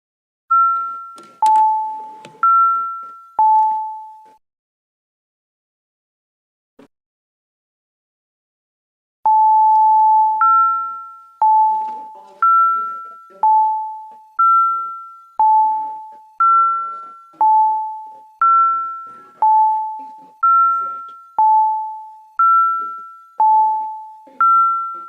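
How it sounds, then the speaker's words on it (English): Electronic two-tone chimes ring repeatedly in a city council chamber, a steady descending ding-dong pattern that pauses briefly and then resumes, clear and prominent with no talk over it. "Those bells are getting on my nerves."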